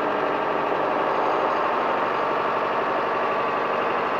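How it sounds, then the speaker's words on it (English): A John Deere backhoe engine running just above idle, a steady close rumbling drone with constant loudness and no voices. "I'm only running the machine just over an idle"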